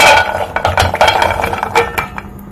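Groundnuts poured into a pan on a stove, a busy run of rattling, clinking and scraping hits against the metal, loud and close throughout.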